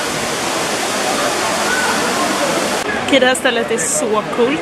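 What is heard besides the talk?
indoor waterfall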